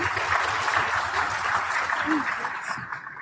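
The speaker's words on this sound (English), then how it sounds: "Can we give them another round of applause, please?" Applause from a seated audience for the DUT Choir at a launch event, dense steady clapping filling the room for a few seconds before tapering off.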